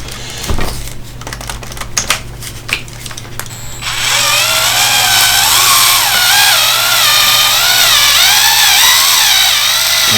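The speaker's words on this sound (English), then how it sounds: "Now keep in mind when you're using power tools, you really don't want to do it too fast." A power drill drives a screw into a plastic A-arm on a Traxxas E-Revo 2.0 RC car: a few sharp clicks and taps, then a loud, steady motor whine whose pitch wavers continuously for several seconds.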